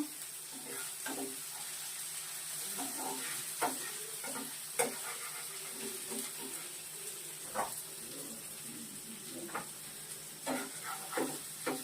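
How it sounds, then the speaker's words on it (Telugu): Paneer roast fries in a pan and is stirred with a utensil, giving steady sizzling under irregular scraping and clinking strokes. The sound is close and continuous, with no speech. "ఇలా మొత్తం కలుపుకుంటా ఉండండి, లేదంటే మాడిపోయిద్ది అన్నమాట."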